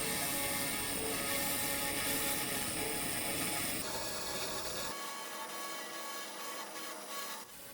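A laser rust cleaner crackles and buzzes with a dense, rapid mechanical rattle as it burns rust off a brake caliper, loud and close, softening and thinning toward the end.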